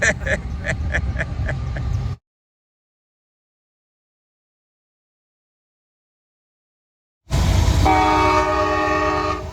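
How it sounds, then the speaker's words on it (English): A train rumbles past with rhythmic clatter through Harpers Ferry, cut by a long silence, then returns loud with a sustained horn blaring over the rolling noise. "Got the train running right through Harper's Ferry."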